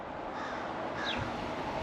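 A crow caws once outdoors, a brief harsh call rising above steady loud wind or traffic noise that fills the whole stretch.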